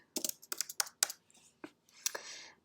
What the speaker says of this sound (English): So let's type some text.